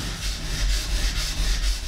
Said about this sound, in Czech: Pomocí tohoto kamene čepel vyostříme a upravíme fazety.